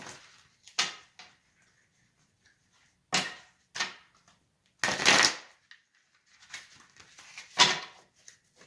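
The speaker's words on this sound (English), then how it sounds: "I'm going to pull some Angel Answers cards for you" Angel Answers oracle cards are shuffled in short separate bursts of riffling and slapping, close and fairly loud, with quiet gaps between them and no talk.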